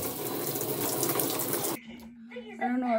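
Shower water runs in a steady loud broadband rush at home, then cuts off abruptly, followed by quieter speech-like voice sounds.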